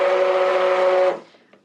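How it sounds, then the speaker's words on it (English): A stick blender buzzes loudly and steadily, mixing an experimental batch of smoked bourbon soap batter, then cuts off after about a second, leaving a few faint clicks. "I am going to mix this in with my stick blender"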